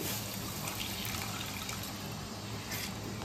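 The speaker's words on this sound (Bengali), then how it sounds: "এরপরে দেখো উষ্ণ গরম জল দিয়ে দিচ্ছি" Warm water poured into a pan of potato and cauliflower curry, a steady gushing splash at close range, continuous and fairly quiet throughout.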